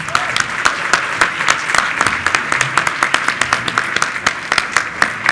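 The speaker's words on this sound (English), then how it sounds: "let's give one more collective round of applause to our honorees today" An audience at a National Philanthropy Day luncheon applauds its honorees, a dense, close round of many hands clapping with sharp individual claps standing out, sustained and lively throughout.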